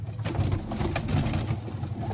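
Madras pigeons coo softly in low, rolling murmurs close by, against a steady hiss of background noise.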